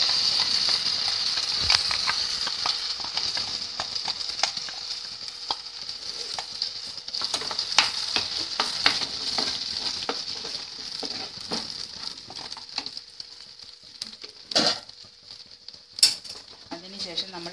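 A pineapple curry mixture is stirred in a pan with a soft, steady sizzle underneath and scattered scraping taps of the spoon, growing sparser toward the end.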